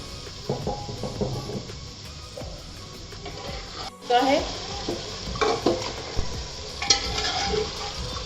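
Mutton and bottle gourd fry with spices in a pan for Hyderabadi dalcha, sizzling up close while a utensil scrapes and stirs in uneven bursts, louder after a brief break midway.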